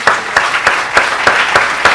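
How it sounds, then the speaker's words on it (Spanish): A church congregation claps together in a steady unison rhythm, about three sharp loud beats per second, each stroke a crisp burst of many hands landing at once, with no talk over it. "Démosle un aplauso, señora"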